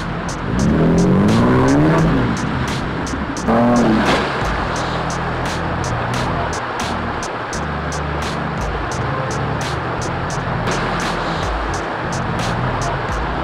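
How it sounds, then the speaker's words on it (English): 4x4 off-road vehicles on monster wheels churn through mud at an Eston off-road trial, engines roaring loud and close with a revving surge near the start and a steady drone after. "look at how those monster wheels carve up that mud."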